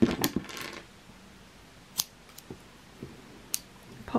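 Scissors snipping yarn tails, a few crisp separate cuts spaced out over quiet, close and fairly soft, with some handling rustle at the start.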